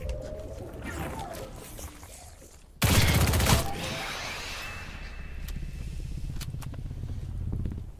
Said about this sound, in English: He's actually shooting at me